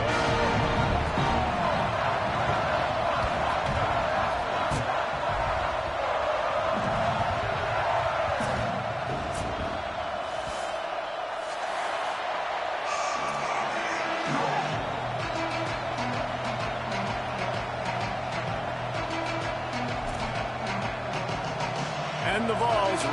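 A home crowd at a Vols college football stadium at elevation gives off a steady, loud roar and cheering that continues throughout, with announcers talking over it.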